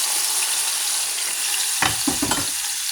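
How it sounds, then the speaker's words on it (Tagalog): Squid marinated in calamansi and soy sauce hits a hot pan with onion, a loud steady sizzle followed by a few short scraping stirs near the end. "ilagay nyo na yung pusit na binabad sa kalamansi at toyo"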